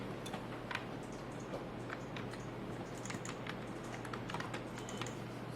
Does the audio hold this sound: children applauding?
no